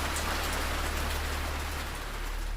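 Steady, dense rainstorm ambience with rain pattering on surfaces, a continuous hiss over a low rumble, holding even loudness throughout with no voices.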